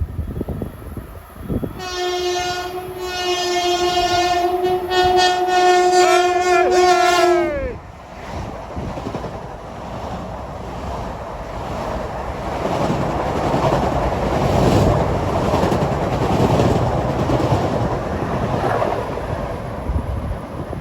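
A train at Jamaica/Hollis blasts its horn in a long chord with a few short breaks, then roars past close by with rumbling, clattering wheels on the rails that continue loudly to the end.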